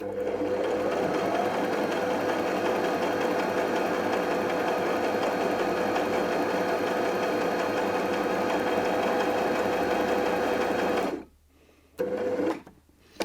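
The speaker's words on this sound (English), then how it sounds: "you want your needle on the right hand side this time to sew the right hand side of the buttonhole" A domestic sewing machine stitches the right side of a four-step buttonhole, with a steady, fast mechanical whirr for about eleven seconds before stopping, followed by a short final burst.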